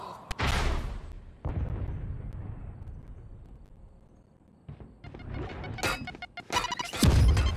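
A grenade goes off in the shooter game Valorant with heavy booming blasts and crashing impacts. A loud burst opens the clip, rumble fades through the middle, then louder close explosions follow at the end.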